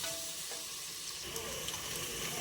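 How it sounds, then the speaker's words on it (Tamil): Onions fry in hot oil for chicken biryani, giving a dense, continuous close-up sizzle with a few faint crackles and stirring scrapes throughout. "இப்போ வெங்காயத்தை நல்லா வதக்கணுங்க எண்ணெய் காஞ்சிடுச்சு அதனால வெங்காயத்தை நல்லா வதக்குங்க"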